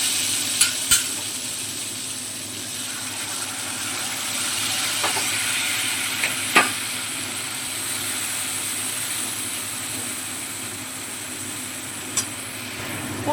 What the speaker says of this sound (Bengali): এবারে বেটে রাখা পোস্তটা আমরা দিয়ে দেব।